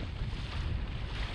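An NK300 motorized kayak runs at full throttle through a New Jersey inlet, giving a loud, steady roar of motor and rushing wind and water with no break in the noise and no talking.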